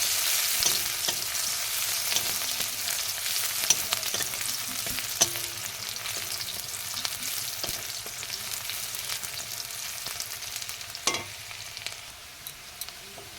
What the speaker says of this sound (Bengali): পেঁয়াজ কুচি, পেঁয়াজটা লাল লাল করে ভেজে নিতে হবে।